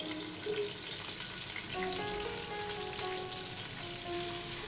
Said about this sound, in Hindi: हाई फ्लेम पर प्याज को गोल्डन कलर आने तक फ्राई करेंगे